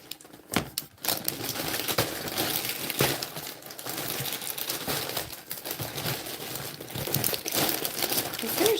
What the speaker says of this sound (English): But since you guys are going to have to hear some rustling anyway,